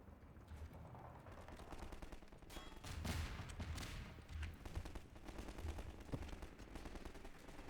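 Gunfire in the Half-Life 2 video game, rapid repeated shots crackling over a dense, steady game soundscape, with loud bursts around the middle of the stretch and scattered sharp reports throughout.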